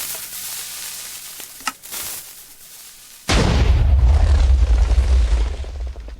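A Minecraft sniper TNT cannon fires, giving a few faint pops and a sharp crack, then a loud sustained rumbling explosion roars for about three seconds.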